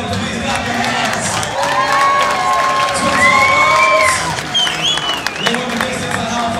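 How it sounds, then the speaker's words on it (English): A mixed martial arts event crowd claps, cheers and whoops for both fighters after a co-main event bout, a loud sustained roar with shrill shouts and whistles rising above it, while a voice talks over the noise. "one more time for both these fighters, please clap your hands"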